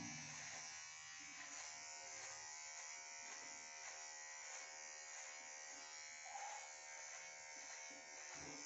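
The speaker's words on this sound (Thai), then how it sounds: "ตัวนี้สามารถโกนหนวดได้ด้วยนะครับค่อยดูนะการโกนหนวด" Kemei KM-5017 cordless clipper shaving a beard: a steady, close electric buzz hums unbroken throughout at an even level, with slight rasping as it moves over the stubble.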